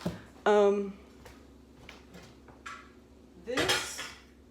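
Glass canning jars being set down inside a large pressure cooker, a few sharp clinks and clatters of glass against metal, close, with brief quiet gaps between them.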